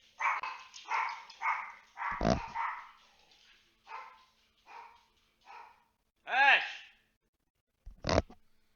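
Dogs barking nearby in several separate bursts, a couple of them sharp and loud, with someone talking in between.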